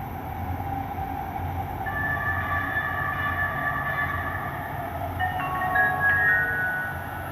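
A Metro train stands at a station with a steady rumbling drone, high electric whines and squeals rising in the second half, with no talk.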